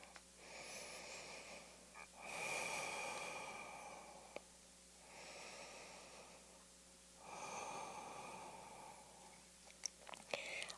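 Slow, deep yoga breathing in a quiet room: three long, airy breaths, each a soft rushing exhale, close and alone with faint small clicks between.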